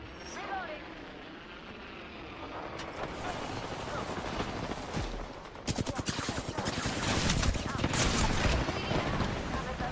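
Enemy gunfire in a shooter video game, scattered shots building into dense rapid volleys, close and loud over mechanical and aircraft-like background noise, with a player's voice talking over the action.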